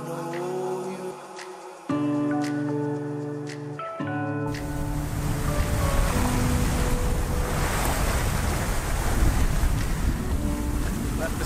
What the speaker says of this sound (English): And now we're sailing about 60 nautical miles to the next Balearic island of Mallorca.